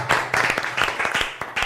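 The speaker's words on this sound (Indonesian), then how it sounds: "Tepuk tangan untuk Tuhan." A church youth worship congregation claps quickly and unevenly, dense rapid hand claps blending into a loud ragged burst of applause over a short stretch, with no clear talking.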